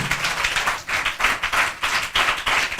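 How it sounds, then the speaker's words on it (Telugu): An audience clapping hard at a church gathering, a dense run of rapid hand claps with rhythmic surges, loud and sustained throughout with no talk over it. "కొట్టండి గట్టిగా చప్పట్లు"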